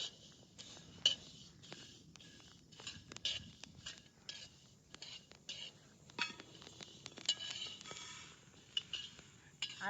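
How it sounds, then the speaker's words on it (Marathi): Fenugreek seeds being dry-roasted in a pan, with soft repeated scraping and light metallic clinks of stirring, quiet and close, while a voice murmurs faintly underneath. "आता हे मेथी आहे ती भाजून घेते जरा."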